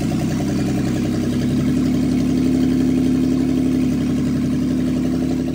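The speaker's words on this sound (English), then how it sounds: "start it up with the exhaust and see how the engine sounds" A car engine runs steadily with its exhaust fitted, a loud, close, continuous drone with a constant low hum and a slight swell in the middle, no voices.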